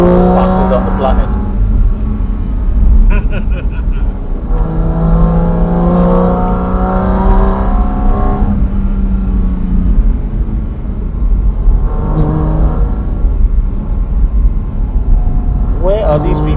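A Porsche Cayman GT4 RS revs hard up a mountain pass in the Alps, its engine climbing through high-pitched, rising sweeps and gear changes, loud and close, with speech heard in between.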